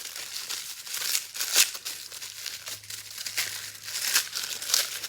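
A package holding three skeins of DMC embroidery thread is unwrapped by hand, with steady close crinkling of plastic or paper and a few louder rustling bursts. A faint low hum runs underneath.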